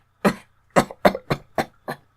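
A man coughs in a series of six short, raspy bursts spaced roughly evenly, close and fairly loud against a quiet background, during a narrated reading of Poe's The Cask of Amontillado.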